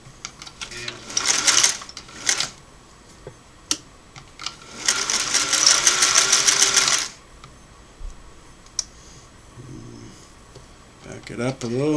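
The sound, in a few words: Singer model 503A sewing machine straight stitch sewing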